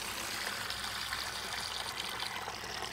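Steady rushing and trickling water drains through a bell siphon continuously, a dense, even gurgle close by with no pauses.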